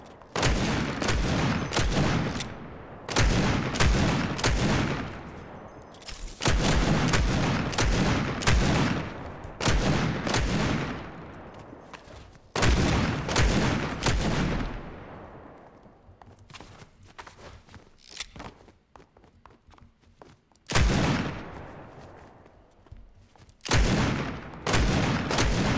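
Rapid bursts of gunfire crackle through a Fortnite shootout, volleys of shots arriving in dense clusters separated by short lulls, loud and close with scattered footsteps between the exchanges.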